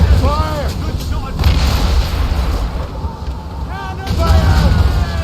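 Ship cannons fire during a naval battle in the video game Assassin's Creed Rogue, with heavy booming blasts and rumbling under loud shouted commands from the crew.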